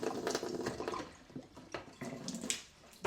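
Sodium metabisulphite sterilising solution swished and sloshed inside a plastic homebrew bucket, with irregular splashing and watery gurgles up close.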